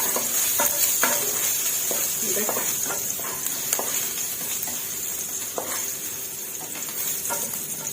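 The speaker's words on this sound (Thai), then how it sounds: "เอากระเทียมลงไปผัดค่ะ" Garlic stir-fried in a pan for rad na, a steady sizzle broken by regular spatula taps and scrapes against the pan.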